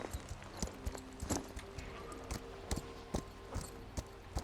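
Horse hooves clip-clop in a steady walking rhythm in the video game Equinox Homecoming, crisp, evenly spaced hits over a quiet ambient background.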